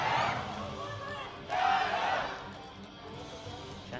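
A stadium crowd at a beach volleyball semifinal in Shanghai chants for China in rising, rhythmic surges, loud swells fading back to a distant murmur.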